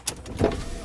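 A Ford Fiesta 1.4 Titanium's electric window motor whirs briefly as the glass lowers, a short mechanical hum inside the cabin.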